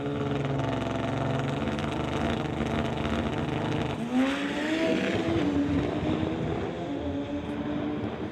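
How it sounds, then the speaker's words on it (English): A Kawasaki drag racing motorcycle makes a qualifying pass at the drag strip, its engine a loud, continuous roar that climbs in pitch partway through as it accelerates away, with no commentary heard over it. "Gary Christopher getting ready to make a pass on board that Kawasaki"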